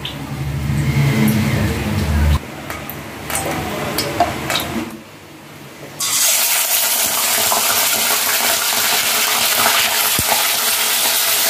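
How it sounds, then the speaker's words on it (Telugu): Cooking oil poured into a pan for chicken fry gives a loud, close rush of liquid, followed by a steady bright hiss as it heats, with a few clicks and knocks mixed in. "చికెన్ ఫ్రైకి నూనె వేసుకుంటున్నాను. 2 డొక్కులు వేస్తున్నాను నూనె."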